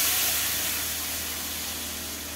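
A thinned, water-diluted spice paste hits hot oil in a pan and gives off a steady, close, bright sizzle that eases off slightly, with no talk over it.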